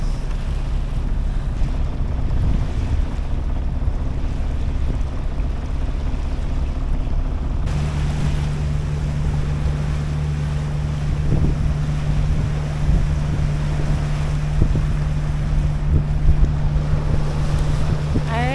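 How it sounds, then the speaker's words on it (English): Steady wind roars across a sailboat running dead downwind in Alaskan waters, a constant broadband rush with water hiss and a low hum joining partway through, no voices. "So we got some wind behind us"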